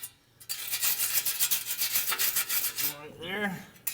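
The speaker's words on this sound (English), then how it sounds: "I'm just going to come up here with a wire brush." Wire brush scrubbing the metal of a car muffler to clean it before welding, quick rhythmic back-and-forth rasping strokes close up, ending with a short squeaky scrape, no talking.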